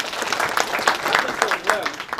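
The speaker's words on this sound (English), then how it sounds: "Let's clap for it." An audience claps steadily for a couple of seconds, a dense, moderately loud patter of many hands in a room.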